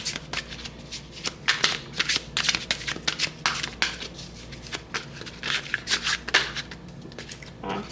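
A tarot deck is shuffled by hand in quick, irregular bursts of riffling card flutter, close and crisp, with brief pauses between the runs and no talk.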